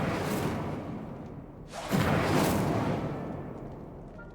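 The Incendio fire spell from Hogwarts Legacy is cast with a sharp rushing whoosh that flares into a roaring burst of flame over steady game ambience, then fades.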